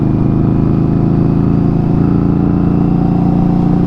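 A motorcycle engine fitted with an Atlas throttle lock runs at a held, steady throttle, producing a continuous, loud, even drone with no changes in revs and no voices.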